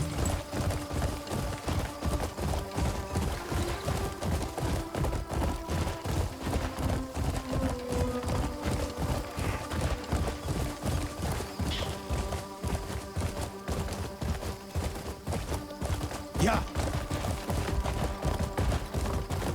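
A horse gallops in the video game Crimson Desert, its hooves beating a quick, steady clip-clop for the whole stretch over a tonal music bed.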